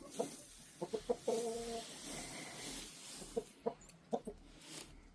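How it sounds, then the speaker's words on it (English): A rooster in the snow makes a series of short, scattered clucks and squawks nearby, with quiet gaps and a soft hiss underneath. "There's the other rooster right there."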